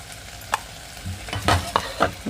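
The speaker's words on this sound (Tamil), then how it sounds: "வெங்காயம் வதங்குது பாருங்க." Onions sautéing in a pan for a Tamil-style lake kendai fish curry, heard as a low steady sizzle broken by a few louder stirring scrapes and clatters near the end, with no voices.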